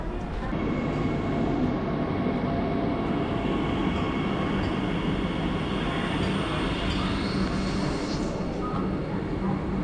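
A Vande Bharat train rolls into a station, a broad steady rumble with a faint high whine rising briefly near the end, heard from nearby on the platform.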